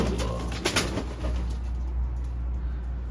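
Adana pigeons cooing in a loft, a steady close chorus of soft low coos with a few louder calls and faint wing flutters, no talking.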